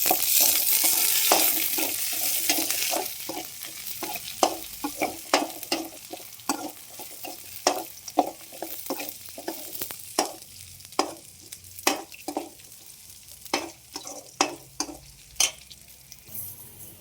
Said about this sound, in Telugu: ఆనియన్స్ అయితే బాగా వేగుతున్నాయి.